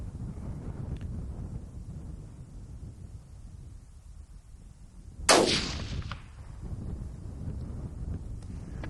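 A single sharp rifle shot cracks out at a bedded buck during an outdoor hunt, loud and sudden against steady wind noise and rustling grass, with a short fading echo.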